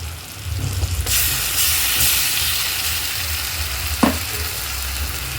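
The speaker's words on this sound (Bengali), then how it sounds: "মশলাটা খুব ভালো করে ভেজে নেব।" Spice paste sizzles and hisses steadily in a hot wok with fried tomato and onion, stirred throughout, with a sharp scrape of the spatula near the end; close and fairly loud, no voices.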